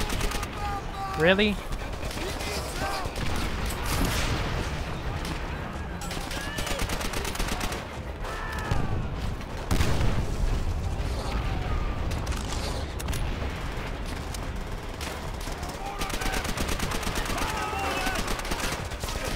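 Gunfire in the World War II shooter Call of Duty: World at War, with near-constant bursts of shots and booms that dominate the whole stretch while players talk over the battle.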